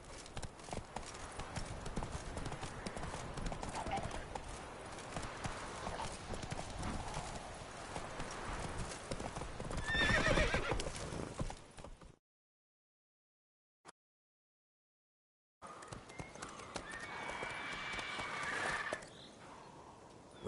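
Geralt's horse Roach gallops in The Witcher 3, its hooves clip-clopping in a rapid, steady rhythm with a neigh partway through. Game speech and ambience run underneath, and the sound cuts to silence for a few seconds before the hoofbeats return.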